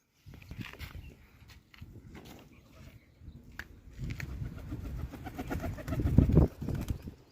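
A trained pigeon coos outdoors in low, throaty bursts that build toward the end, mixed with shuffling steps and scattered knocks nearby.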